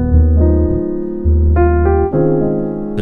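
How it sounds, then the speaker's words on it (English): Sustained piano chords shift through a few changes, including a 9sus4 chord, the harmony left hanging and unresolved, played loud and alone. "that's how your ears can pick up on that 9 sus 4 chord or any sus chord"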